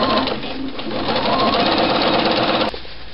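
A sewing machine runs steadily with an edge stitching foot, stitching around a shirt collar stand in one continuous close whir that stops abruptly near the end.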